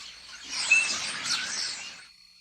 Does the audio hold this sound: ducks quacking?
no